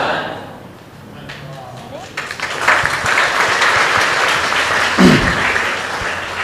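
Congregation applause fills a worship gathering, a broad wash of clapping that swells after about two seconds and holds steady, with a voice faintly underneath at the start.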